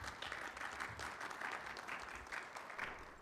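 An audience at a security conference panel applauds steadily, a dense, even wash of many hands clapping, fairly soft and distant, with no voices over it.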